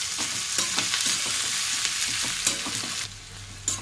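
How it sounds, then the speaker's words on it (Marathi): Onion roasting in a pan with garlic and grated coconut gives a steady, close sizzle and crackle, with repeated spoon scrapes and stirring clicks over the hiss and no voices. "कांदा भाजत असताना त्यात आपण लसूण आणि खिसलेलं खोबरं घालणार आहोत"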